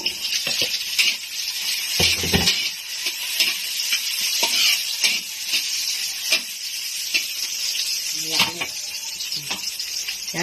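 Garlic, onion and ginger sauté for chicken adobo, a close steady sizzle broken by frequent stirring clatters and spoon knocks, no talk.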